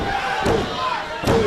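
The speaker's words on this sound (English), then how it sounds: "Drops Davis on the back of his neck for another near fall" A wrestler is dropped onto the back of his neck on the ring mat during an FIP World Championship match, giving two heavy thuds about a second apart under loud play-by-play commentary and crowd noise.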